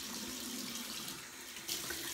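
Lukewarm tap water runs steadily from a faucet into a sink for face cleansing, a continuous close hiss and splash with no voices.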